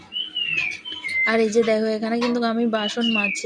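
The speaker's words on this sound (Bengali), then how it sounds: "আর একটা পাখি এত জোরে জোরে ডাকছে" A bird calls loudly on a morning at a village home, with sustained whistled notes at the start and end, heard over someone talking while she scrubs dishes.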